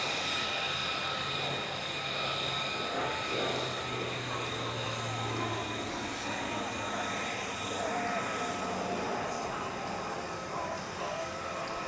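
A military transport aircraft, smaller than a C-130J Hercules, flies past at the Italian Air Force centenary airshow, its engines a faint, steady distant drone.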